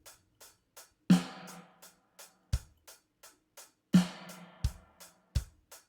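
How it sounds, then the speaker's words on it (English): An instrument played through an Ambiplate plate reverb as a quiet glue element, heard as a steady pattern of soft ticking hits with two louder struck notes whose bright tails bloom and decay, plus a few low thumps, with no talking. "I switched over to a reverb called Ambiplate from the same pack"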